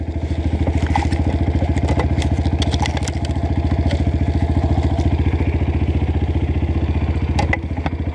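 Motorcycle engine idling in a traffic jam, a steady close rhythmic putter with a few light clanks on top, loud and continuous throughout.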